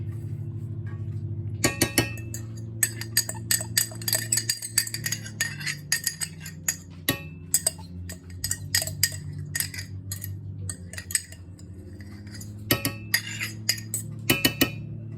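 Canned tomatillos tip into a cooking pot with a run of metallic clinks, taps and scrapes of can and utensil against the pot, close up and fairly quiet, over a low steady hum.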